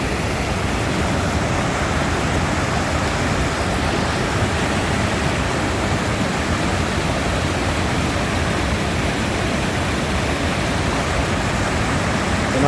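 Skelwith Force waterfall in Cumbria sends up a steady, loud roar of rushing water that holds unbroken from start to end, with no voices over it.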